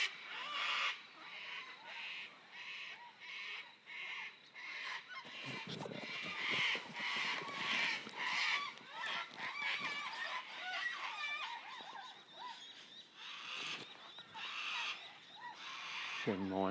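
Myna birds call outdoors in a hunting field, their chattering, squawking cries repeating almost without pause at moderate distance.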